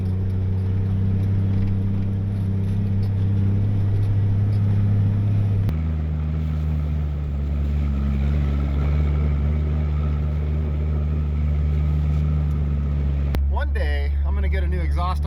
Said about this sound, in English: get a new exhaust on this thing that doesn't have that annoying drone